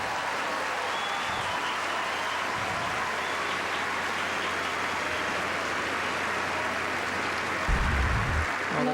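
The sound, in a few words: crowd applauding at a tennis match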